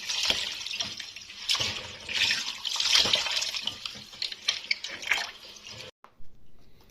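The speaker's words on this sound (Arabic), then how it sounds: "تشغلوا على الحنفيه، تغسلوها مرتين تلاتة كده عشان تبقى نضيفه" Tap water running into a bowl to wash rice, a bright continuous splashing hiss with grains being stirred and swished, close, then cutting off near the end.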